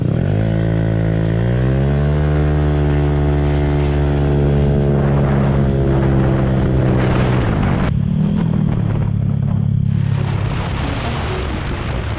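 Honda ADV150 scooter with a Yuminashi PGM-FI and variator upgrade, its engine revving loud and close as it accelerates, pitch climbing steadily and holding high, then dropping and shifting near the end.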